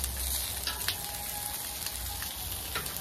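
Chicken wings sizzle steadily on a Blackstone flat-top griddle, a dense, continuous frying crackle with a few small pops, close and fairly quiet, with no talking.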